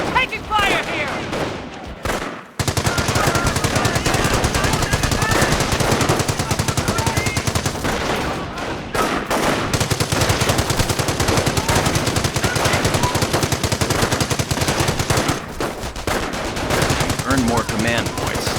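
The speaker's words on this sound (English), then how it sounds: "We're taking fire here!" Machine guns in the World War II strategy game Company of Heroes fire sustained rapid bursts, loud and close, with a brief gap near the start and faint voices mixed into the din.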